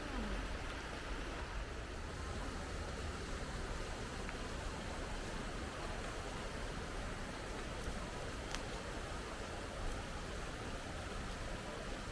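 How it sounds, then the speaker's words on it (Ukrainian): A river runs past a small spa town centre, its flow a steady broadband rush without a break, fairly faint and unchanging throughout. "А це ж тут річка тече"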